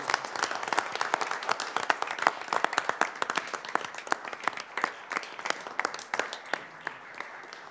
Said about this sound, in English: please get both a round of applause and maybe a picture of this group with our council